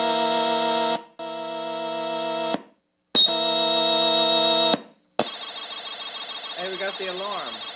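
Circuit-bent noise drone keyboard sounding an alarm-like tone, loud steady buzzing bursts cut by short silences, then a warbling, wobbling electronic pattern to finish.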